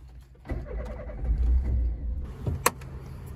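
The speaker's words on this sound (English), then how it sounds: "start the powerful engine" A Citroen BX engine being started, a low cranking rumble that rises and catches into a rough idle, close by, ending with a sharp click and a few faint rattles.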